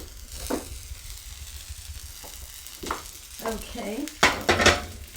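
A fruity pancake sizzles softly in a frying pan while a utensil clinks and scrapes against the pan, ending in louder clatter; a person speaks briefly.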